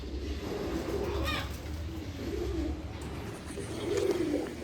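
Soft, low pigeon cooing repeats in gentle rolling phrases close by, with a faint bird chirp and steady background hum.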